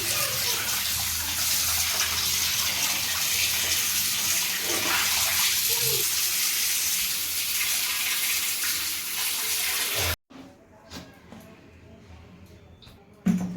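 Cut fish are washed under running water, a steady loud gush from the tap that cuts off abruptly, followed by quieter clinks and drips, with a voice speaking during the flow.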